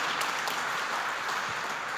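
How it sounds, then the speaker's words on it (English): An audience at a governing body inauguration ceremony gives a round of applause, a dense, even wash of many hands clapping that holds steady throughout without voices. "Another round of applause, Andy Baker family."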